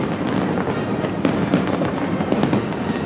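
Fireworks bursting at the 1997 Hong Kong handover celebration, made by a British fireworks company, a loud dense barrage of overlapping crackles and booms with no letup.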